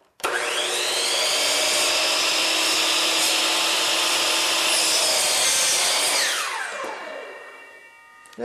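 A miter saw spins up and slices through a wood piece with a loud, steady whine for about six seconds, then the blade winds down with a falling tone after the cut.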